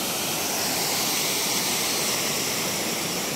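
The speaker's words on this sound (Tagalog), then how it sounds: "Wow, napakaganda ng falls." Waterfall at Agpay Eco Park roars as a dense, continuous rush of falling water, loud and steady without pauses, with no voices heard.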